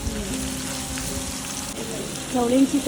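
Whole spices tempering in hot oil for a large village meal cooked during the Kokan Shimga festival, a steady close sizzle and crackle throughout with a voice briefly over it near the end.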